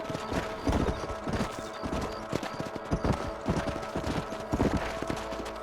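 Horse hooves clip-clopping in a steady, uneven rhythm as riders travel across open ground in the Wild West video game Red Dead Redemption, with a brief neigh and game ambience underneath and no talking.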